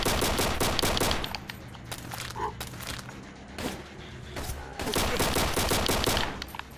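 Rapid bursts of gunfire from a zombies custom map in Call of Duty: World at War on PC, loud and dense at the start, thinning in the middle and picking up again toward the end.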